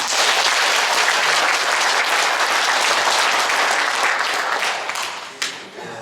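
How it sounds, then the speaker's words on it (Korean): Audience applause welcoming a priest to a special parish lecture for confirmation preparation, a dense steady roar of many hands clapping at close range that fades slightly near the end. "박수로 환영합니다."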